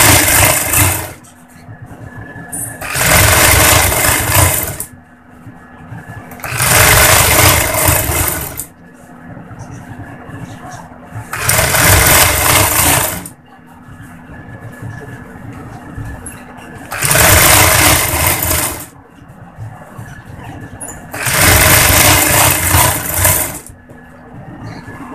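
A sewing machine stitches the seam of a ladies' pajama pant in five loud bursts of whirring, each a few seconds long, separated by quieter pauses.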